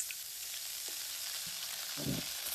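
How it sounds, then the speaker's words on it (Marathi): Masala frying in hot oil in a kadhai, a steady dense sizzle throughout with a soft stirring scrape near the end, heard alone. "कढई गरम झाली आणि तो मसाला सोडून देऊ आता त्याच्यात"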